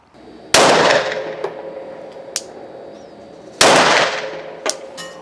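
A Glock 17 Gen 5 pistol with a Holosun 509T red dot fires two sharp, loud shots a few seconds apart on a range, each blast ringing off with a decaying echo and fainter clatter between.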